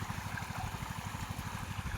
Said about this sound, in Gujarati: પેલું પાણી આવે છે